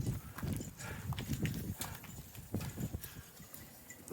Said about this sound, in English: The horses are pretty grumpy because of the weather